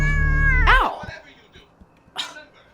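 An angry cat lets out a loud, strained yowl at close range, a long drawn-out wail rising into a harsh squall before breaking off, followed by scuffling and a short sharp burst of noise.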